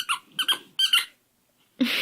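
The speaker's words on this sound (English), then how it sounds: "Got a good squeaker." A dog's squeaky toy squeaker gives several short, bright, close squeaks in quick bursts, then a brief pause before a final noisy squeeze.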